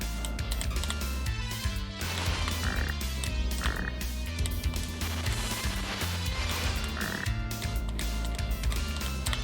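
Repeated croaks from frogs in the Castlevania: Rondo of Blood game, sounding over loud driving game music, with no voices.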